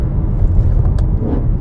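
BMW E92 M3 engine with an Evolve Stage 2 tune, primary decats and an Eventuri carbon plenum, giving a loud, steady, deep rumble close up while driving.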